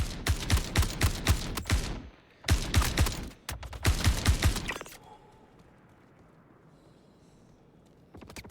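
Rapid bursts of gunfire aimed at the player in a space sci-fi shooter game, loud and close in three rattling volleys over about five seconds, then fading to a quiet hiss with a faint thud at the end.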